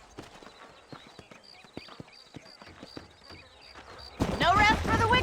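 Rhythmic clip-clop of horse hooves at a steady gait in the video game Red Dead Redemption, fairly close, followed by a burst of louder voices talking over the end.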